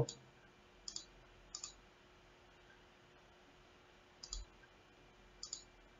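A computer mouse clicks sharply a handful of times in a quiet room, single crisp clicks spaced irregularly with long gaps between them.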